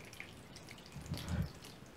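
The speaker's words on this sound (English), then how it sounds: "I'm adding real water here." Real water is poured onto a painted flat earth model, giving a brief, gentle splash and trickle that rises for about half a second amid quiet background hiss.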